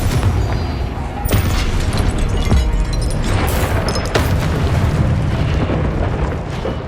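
Confringo fire spell blasts in the video game Hogwarts Legacy, repeated booming explosions and crackling bursts over a loud, continuous roar of combat effects, with a voice briefly heard.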